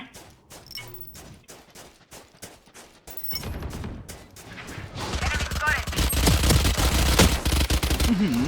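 Video game gunfire: rapid single shots early on, then dense sustained automatic bursts growing louder and more continuous, with a player speaking over the action.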